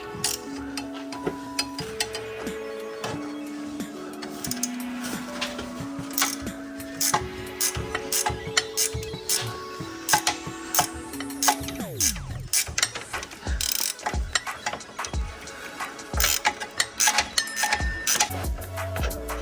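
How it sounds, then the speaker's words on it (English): A 3/8-inch drive ratchet turning a socket while working on suspension parts, giving repeated rapid clicking bursts and mechanical clatter at close range, with tonal whirring early on and no talk. "I've got a pretty good sized 3/8 drive ratchet I could be using with a socket"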